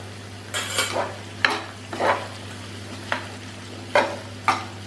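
Repeated scraping strokes of a spoon stirring okra and potato curry in a pan, about six rhythmic swipes over a steady low hum, close and clear.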